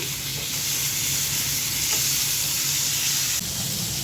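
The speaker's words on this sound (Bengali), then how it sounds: "আজকে পাঙ্গাস মাছ ফ্রাই করছি বড় বড় দুটা পিস নিয়ে নিয়েছি" Two large pieces of pangas fish fry in a pan of oil, giving a steady, close sizzle and hiss with a faint scrape near the end, no voices.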